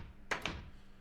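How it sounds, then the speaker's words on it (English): Old wooden door sound effect from the video game Minecraft, two quick close thuds in succession, fairly quiet and heard alone. "door sound"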